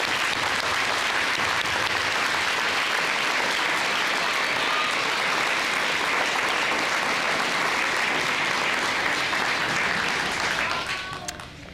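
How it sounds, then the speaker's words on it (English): Sustained, full audience applause at a summer graduation ceremony, steady and dense for about ten seconds before tapering off at the end. "Please give them a big round of applause."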